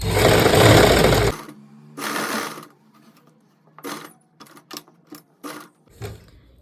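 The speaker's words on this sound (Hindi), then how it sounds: "अब यहाँ पे स्लो प्रोसेस से सिलाई लगाएंगे।" A sewing machine stitches elastic into palazzo pants in short bursts: one long whirring run, a second shorter one, then several quick stitch-by-stitch clicks and brief runs, heard up close.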